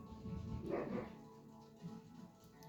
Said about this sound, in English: My son got a puppy and he's in here barking now.